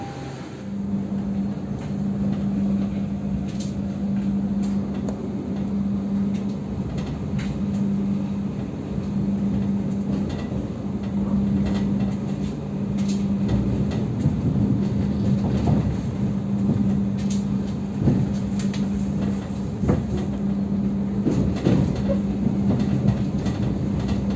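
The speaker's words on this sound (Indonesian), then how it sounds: "sekarang kereta api Argo Wilis akan berangkat" The Argo Wilis passenger train rumbles steadily nearby as it departs Surabaya, with a low droning hum and faint clicks and rattles from the rails as it rolls out.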